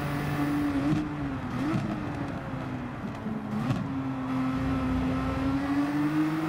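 Race car engines roar continuously in Gran Turismo 7 during an online race at Daytona, a steady droning whine with pitch rising and dipping as cars accelerate and shift, loud throughout without talk.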